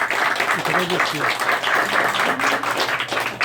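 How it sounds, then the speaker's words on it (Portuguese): Audience applause at a book launch, a crowd clapping steadily and close by while someone speaks over the clapping. "Dá uma salva de palmas para ele"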